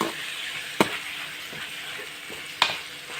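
Two tomatoes fry together in a pan for a Tulu-style chicken dish, a low steady sizzle broken by two sharp utensil clinks against the pan and a few softer scrapes.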